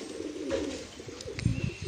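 Five pigeons gathered on a house rooftop give low, soft cooing calls in a steady murmur, with a slightly fuller burst of coos near the end.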